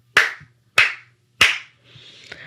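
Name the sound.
three hand claps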